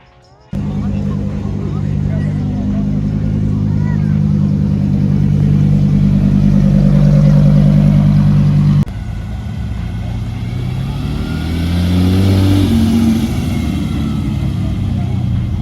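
Ferrari F430 Scuderia Spider 16M with its naturally aspirated 500 horsepower V8, revving loudly and close by, a steady rumbling drone that shifts in pitch partway through, with voices and outdoor crowd noise around it.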